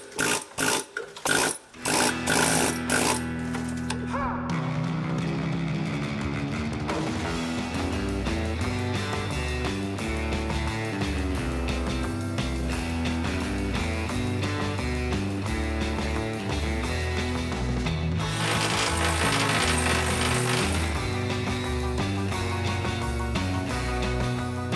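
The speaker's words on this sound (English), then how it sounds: "we bought an air chisel to hammer it all off." A pneumatic air chisel hammers rust off an old trawler rapidly and continuously, a loud close rattling buzz that starts with a few short bursts before running steadily.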